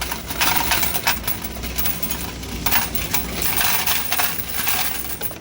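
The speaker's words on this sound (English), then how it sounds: "Dump the rest of the coins in here." Coins cascading inside an Avengers coin pusher arcade machine under repair, a dense, loud metallic clatter and jingle of many coins dropping continuously, close by with a low mechanical hum underneath.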